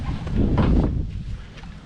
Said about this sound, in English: Bit windy to go much further out into the estuary out there.